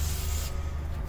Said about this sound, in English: start by just spraying that the bottom out so it can start softening that a little bit